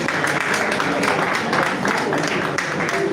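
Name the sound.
audience clapping for inductees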